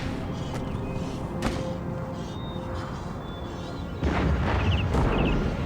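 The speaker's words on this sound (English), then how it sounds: "Oh shit, they have cannons too." Cannon fire on an Empire: Total War battlefield, a few deep booms over constant battle rumble, louder distant blasts toward the end amid ongoing combat noise.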